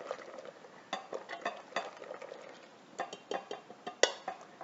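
Souffle mixture whisked by hand in a bowl: rapid rhythmic metallic clicks and taps of the whisk against the bowl, close and steady with brief pauses, quiet and without talk.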